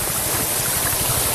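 Stream water outside Bengaluru rushes loudly and steadily, a dense unbroken wash of flowing water with no pauses.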